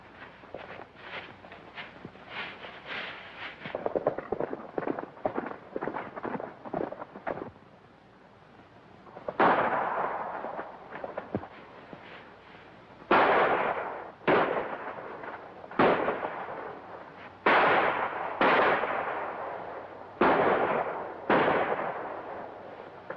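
Gunfire in a 1938 western shootout in the desert: a rapid cluster of shots early on, then a series of loud, sharp separate reports at irregular intervals, each ringing briefly.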